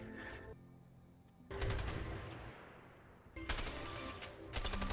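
M16 rifle gunfire from the video game A Way Out comes in fast, sharp bursts separated by quieter pauses, moderately loud and close.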